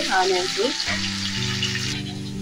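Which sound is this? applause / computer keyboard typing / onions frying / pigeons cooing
onions frying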